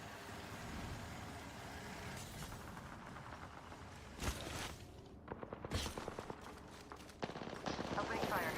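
Rapid bursts of automatic gunfire in an online shooter game, with loud clustered volleys in the second half over a steady background hum, while a player's voice talks over the action.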